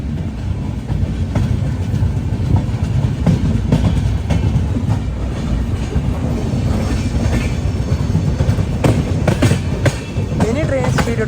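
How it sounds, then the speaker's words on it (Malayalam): A Grand Trunk Express sleeper-class train runs with a steady loud rumble and rattling carriages, rhythmic clicking of wheels over rail joints and a few faint squeals, as it begins to gather speed. "ഇനി ട്രെയിൻ സ്പീഡ് എടുത്ത് തുടങ്ങും"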